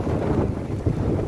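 Strong typhoon wind at the seaside in a coastal village, roaring steadily and loudly into the microphone with heavy low buffeting and surf-like rush, no voices.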